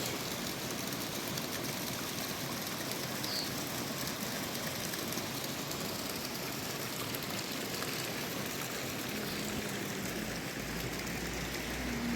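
Steady water spray washes a very mud-caked car, a dense continuous hiss running unbroken and close throughout.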